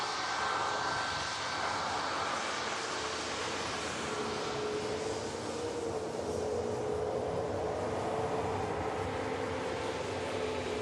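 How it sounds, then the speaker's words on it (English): A Ryanair Boeing 737 MAX landing at Manchester Airport: a loud, steady jet engine roar with whining tones throughout, rising and settling as the airliner passes close by, no voices. "Ryanair 737 MAX. Another MAX coming in."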